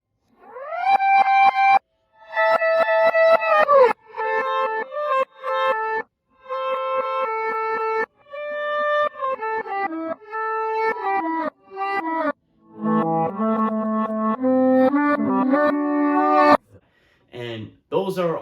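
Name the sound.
reversed electric guitar solo with distortion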